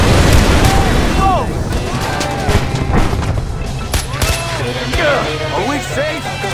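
Gunfire and explosions from the Far Cry video game fill the mix in a dense, loud barrage with booms and rattling shots, while voices shout over the chaos.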